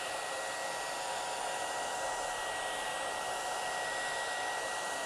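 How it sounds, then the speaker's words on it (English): A blow dryer set on low runs steadily and loudly without pause, heating a Samsung Galaxy S23 Ultra Whitestone Dome glass screen protector; its even whooshing roar carries a faint high whine. "I'm gonna go ahead and use the blow dryer here"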